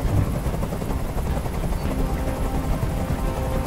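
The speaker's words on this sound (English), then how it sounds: "Tell that helicopter to get out of here!" A helicopter hovering in the game Detroit: Become Human makes a steady, loud, broadband rotor and engine roar that holds without break, with no talk over it.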